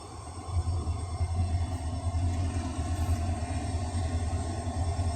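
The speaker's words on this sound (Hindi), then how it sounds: "डेमू ट्रेन आ रही है" A DEMU train with a WDP 4D locomotive approaches on a line near Goa, a heavy low rumble of engine and wheels holding steady and fairly close, with no voices.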